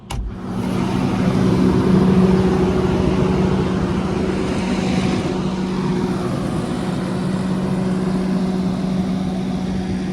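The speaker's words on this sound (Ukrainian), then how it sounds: "якраз під'їхав трактор, будемо заправляти оприскувача" A tractor pulling up to refill a sprayer in a wheat field drones close by for the whole stretch, a low mechanical hum with a constant tone.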